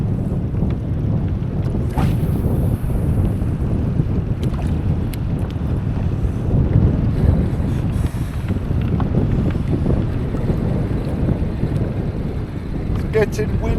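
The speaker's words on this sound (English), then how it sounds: "That wind's picked up now." Wind buffets a microphone beside the water while fishing in Devon, a continuous rough roar with gusty rumbles that stays loud and close from start to finish.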